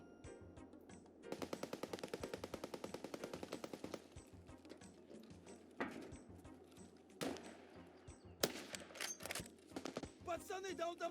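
Mounted machine gun in a first-person shooter firing a rapid, steady burst of rounds, then scattered shots and clattering action sounds in a busy, loud game mix.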